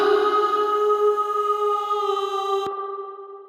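Spring reverb from the Pulsar Primavera plugin on a sustained tonal sound, steady stacked harmonics ringing on, then a sharp click before a smooth, decaying reverberant tail.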